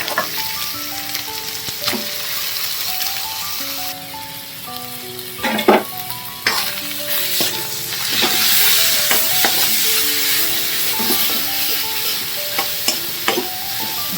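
Onion fries in a pan with a continuous loud sizzle and hiss, broken by occasional stirring clatters, while soft background music plays and no one speaks.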